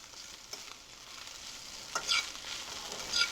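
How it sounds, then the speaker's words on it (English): Corned beef hash and eggs fry in a pan with a quiet, steady sizzle, broken by a few soft scrapes as the food is stirred and turned. "And you have to keep moving it so you don't scorch your eggs."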